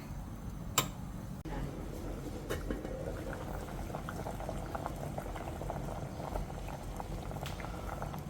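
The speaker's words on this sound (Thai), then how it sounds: "ต้มให้มันเปื่อยก่อนอย่างใส่กะทิ กับน้ำตาล" Yam bean and taro chunks boil in a pot of water, a continuous close bubbling and gurgling with small irregular ticks and pops from the pot, and a few sharper knocks near the start.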